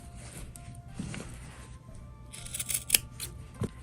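Scissors snip the corners of sewn leftover patchwork fabric indoors. The cuts come as a few quiet, crisp close snips, with light rustling of the cloth between them.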